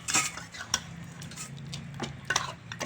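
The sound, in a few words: chicken kosha poured into a bowl and stirred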